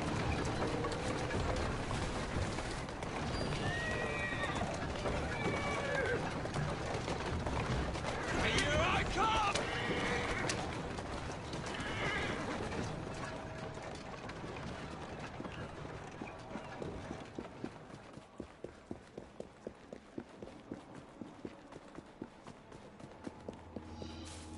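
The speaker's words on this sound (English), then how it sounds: "Most of this game is riding a bloody carriage." A horse-drawn carriage rolls through Victorian London in Assassin's Creed Syndicate, rhythmic hoofbeats clopping under street ambience and birds, growing into a clear steady clip-clop toward the end, with someone talking over it.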